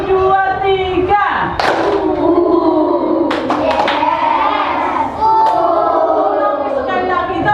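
A class of children performs a one, two, three clap routine, one group clap followed after a pause by a quick cluster of claps, with a teacher and children speaking and chanting throughout.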